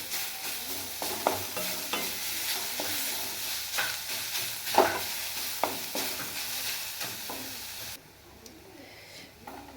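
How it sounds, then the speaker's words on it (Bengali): Steady frying sizzle of papaya with onion and green chili, with repeated scraping and stirring clatter from a spatula, the hiss dropping off sharply near the end. "এবার আমাকে ভালো করে ভাজতে হবে"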